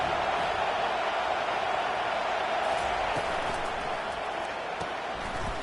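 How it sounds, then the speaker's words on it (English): A football stadium crowd roars on third down, its noise rising behind the defense in a broad, sustained wash of cheering that stays fairly distant and even throughout. "Decibels rising as the crowd gets behind this defense on third down"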